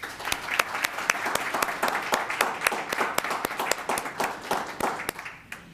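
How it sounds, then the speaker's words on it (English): A small crowd at a Los Gatos town council meeting applauds with steady, distinct hand claps throughout, tapering off slightly near the end. "Let's give him a round of applause."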